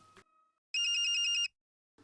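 A mobile phone rings from inside a pocket: a short burst of rapidly pulsing electronic trill lasting under a second, clear and fairly loud, set between near-silent pauses.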